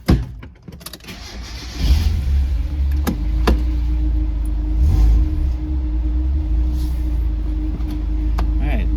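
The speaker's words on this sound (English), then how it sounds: "Let's go out for a test drive." A Mazda Miata starts up and settles into a steady, low engine drone heading out on a test drive, preceded by a few clicks and jangles of keys; faint talk is heard.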